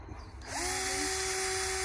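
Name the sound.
drilling holes into license plate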